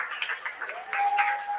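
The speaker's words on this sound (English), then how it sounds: "give a big round of applause to every entrepreneur in the building" Audience applause fills a hall at the Young Gifted & Black Entrepreneurial Awards Gala, a steady wash of clapping with a thin whistle-like tone running through the second half.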